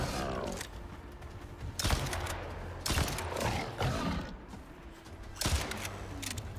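Heavy gunfire from a bigger gun in the video game Icarus, several loud separate blasts about a second apart, each with a booming decay, over low game ambience.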